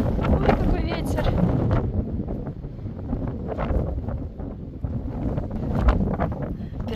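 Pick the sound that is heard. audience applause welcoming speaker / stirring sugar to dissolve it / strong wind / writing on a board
strong wind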